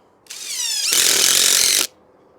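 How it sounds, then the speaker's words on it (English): A DeWalt drill driving screws: a short whirring spin-up that climbs in pitch, then a loud, steady burst of about one second before cutting off sharply. "let's start drilling a couple of screws in there"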